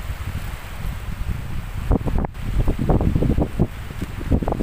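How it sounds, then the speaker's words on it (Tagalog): Strong seaside wind buffets the microphone in heavy, uneven gusts at the shore of a coastal village, with a low roar and bursts of rumbling that rise and fall throughout. "Tamang lakad-lakad po ako dito sa tabing dagat."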